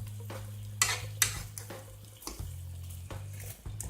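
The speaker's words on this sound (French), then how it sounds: "Et je vais laisser mijoter ça pendant un petit moment." Sausages in tomato sauce simmering and being stirred in a pan, with soft bubbling, a low steady hum, and a few scraping utensil knocks, fairly quiet.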